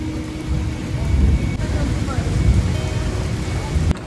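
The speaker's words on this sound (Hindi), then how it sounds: "बारिश थोड़ी सी कम हुई है" Heavy rain falling in the Sector 17 market street in Chandigarh, a dense steady hiss and patter close by, with a brief sharp knock near the end.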